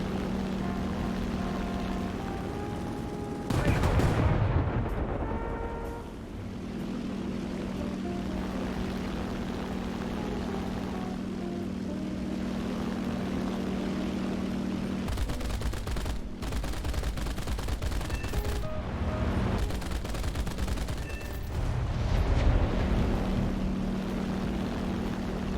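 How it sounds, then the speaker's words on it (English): Bombs dropped on ground targets from an early plane in War Thunder, with a constant propeller engine drone broken by loud bursts of explosions and gunfire-like blasts. "Let's drop some bombs on these guys"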